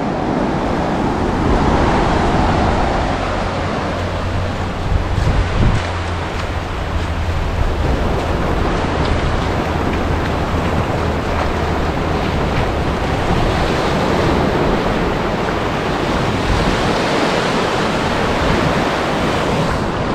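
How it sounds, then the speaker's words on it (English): Ocean surf breaking on Tyrico Beach on the North Coast Road of Trinidad past Maracas, a steady, loud wash of waves rolling in continuously with wind buffeting the microphone throughout. "And then of course, the beautiful ocean around me."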